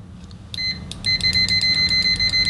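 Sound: cheap LOMVUM DM616 multimeter continuity beeper

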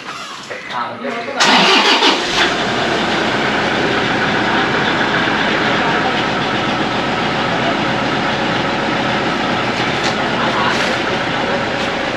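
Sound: Toyota Innova car engine starting

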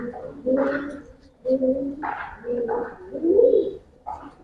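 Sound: Giribaz pigeons cooing

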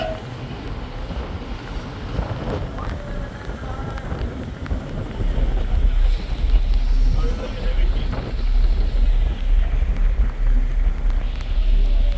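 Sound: strong gusty wind on a river boat

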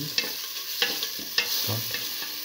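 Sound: two red chilies frying in a pan

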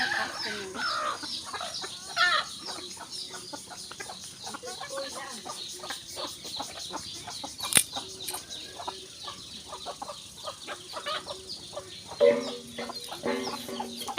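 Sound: free-range chickens clucking while being fed

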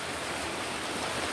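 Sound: river water rushing after heavy rains

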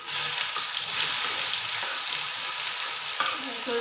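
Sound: onions added to hot oil, frying for chana dal pakoda curry

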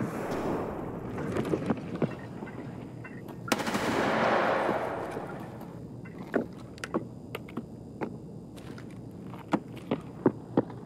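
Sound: AK rifle firing PS rounds in video game Escape From Tarkov

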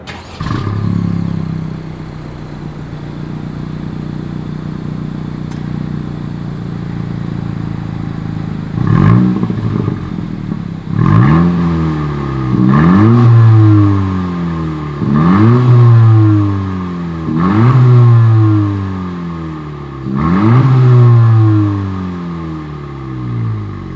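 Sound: Honda Civic Si exhaust revving

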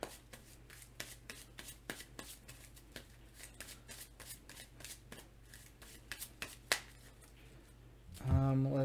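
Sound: drawing cards in a Marvel Legendary card game

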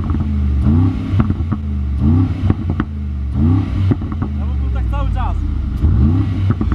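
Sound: Brabus G800 engine revving with titanium Brabus exhaust

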